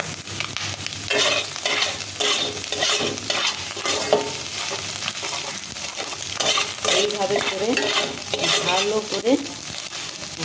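Chopped onion and potato sizzling in a frying pan while a spoon stirs and scrapes through them, steady loud frying with repeated clattering stirs throughout.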